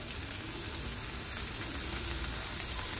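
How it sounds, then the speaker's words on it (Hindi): Stewed chicken pieces frying in hot oil in a pan on high flame, a steady close crackling sizzle that runs evenly throughout with no talk. "यह हमने एक पैन में तेल गरम कर लिया है, फ्राई कर लेंगे हम अपने पीसेस चिकन जो हमने स्ट्यू करके रखे थे।"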